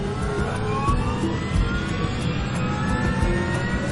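Aircraft engines of an Air Florida jet throttling up, heard from inside the cockpit: a loud, steady roar with rising whine tones layered over a rumbling low end, continuous throughout.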